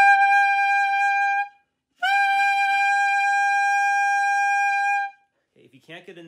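A bass clarinet mouthpiece and neck played without the rest of the instrument give two loud, sustained, reedy high squawks, the first short and the second longer, separated by a brief silence.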